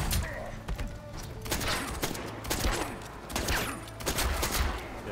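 Rapid bursts of video game gunfire from Mortal Kombat 11 tournament play, repeated volleys with loud thumps and impacts across the whole stretch, dense and continuous.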